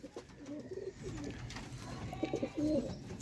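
Chuha pigeons coo in soft repeated phrases at close range, faint over a low background hum, with no talk.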